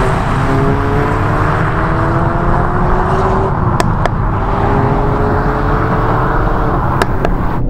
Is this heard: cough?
no